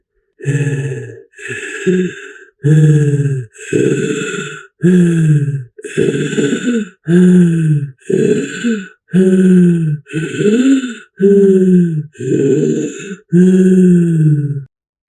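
A voice imitates a monster's heavy panting: about a dozen loud, rasping, evenly spaced breaths, each a harsh groan-like huff up close.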